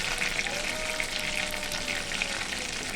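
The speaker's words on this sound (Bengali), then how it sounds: "এই তেলের মধ্যে আমি ফোড়ন হিসাবে দিয়ে দিচ্ছি একটু তেজপাতা" Bay leaf and dried chilli tempering in hot oil in a wok, a steady dense sizzle of frying that holds evenly throughout at close range, with no voices.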